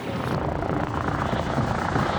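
Air ambulance helicopter arriving at St George's hospital, a close, loud continuous rotor thrum with steady chopping beats throughout, no speech over it.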